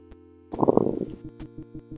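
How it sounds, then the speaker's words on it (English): A loud, gurgling stomach rumble sound effect from the video game Phantasmiac plays over a looping electronic music bed, followed by steady pulsing beats. "You can hear your stomach rumble loudly, reminding you that it's well past time for dinner."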